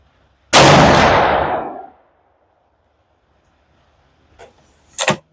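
A single loud 400 Legend rifle shot firing a Winchester 215-grain Power Point round cracks close by and rolls off in a long echoing decay, followed later by a couple of sharp clicks.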